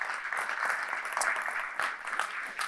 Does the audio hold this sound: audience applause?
yes